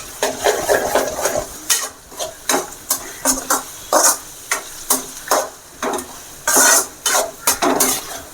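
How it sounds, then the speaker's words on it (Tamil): A spatula scrapes and knocks rhythmically in a pan as egg is mixed through frying cluster beans, loud close strokes about every half second over a light sizzle, with no talking. "நல்லா கலந்து விட்டுங்க காய்கறி ஃபுல்லாகவே இந்த முட்டை நல்லா கலக்கணும்"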